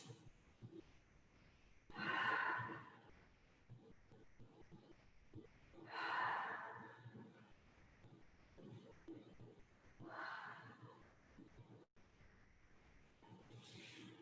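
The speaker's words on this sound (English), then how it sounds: "take some letting go breaths, inhaling through your nose, exhaling through your mouth" Slow deep breaths drawn in through the nose and let out through the mouth, three long soft whooshing exhales spaced about four seconds apart, close and quiet, a fainter fourth near the end.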